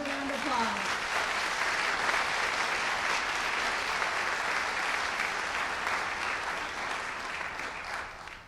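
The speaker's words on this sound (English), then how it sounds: "Another round of applause" An audience at an institute day event gives a round of applause for outstanding individuals, a full, steady burst of clapping that holds for several seconds and then begins to taper at the end.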